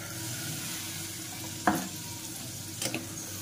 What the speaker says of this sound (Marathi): आता आपण याच्यामध्ये छोले घालूया